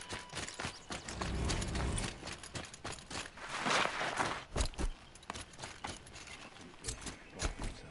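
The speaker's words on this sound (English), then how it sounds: "Can I get my horse back?" Horse hooves in the video game Horizon Zero Dawn, a run of quick, close clip-clop beats in an uneven trotting rhythm, heard alone at a moderate level.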